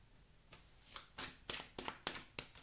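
Playing cards are shuffled for a tarot-style card reading, with a series of crisp riffling bursts at irregular intervals, close and fairly quiet, with no talking over them.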